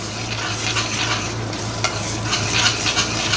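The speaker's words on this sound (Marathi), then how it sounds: "तर आता तेल सुटेल तोपर्यंत आपल्याला हे परतवून घ्यायचं आहे आणि चमच्याने असंच परतवत राहायचं आहे" Kolhapuri mutton masala sautéing in oil as a spoon keeps stirring it: a close, steady sizzle with a scraping, stirring texture throughout and no talking.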